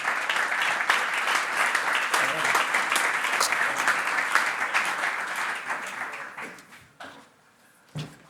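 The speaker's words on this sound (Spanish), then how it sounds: "un fuerte aplauso" An audience at a physics talk gives a strong round of applause, dense steady clapping for about six seconds that thins out and stops, followed by a few scattered claps and faint room noise.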